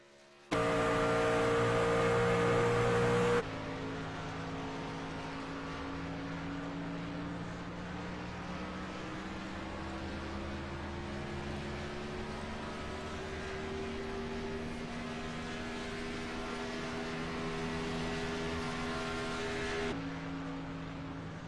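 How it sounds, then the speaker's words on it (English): Race truck on a qualifying run, with a loud sustained engine drone whose pitch slowly climbs and shifts as it accelerates, preceded by a brief louder burst at the start. "That's the next 3 trucks up for their qualifying runs here."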